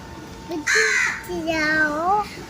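A human voice imitates a crow's caw, giving a few loud, drawn-out cawing calls close to the listener with short gaps between them.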